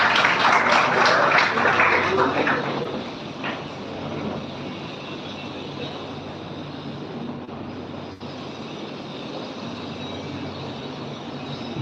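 Audience applause at an MIT Moradabad valedictory function welcoming the director to the stage, a dense, steady clapping wash that is loudest in the first few seconds and then settles into a sustained, slightly softer roar.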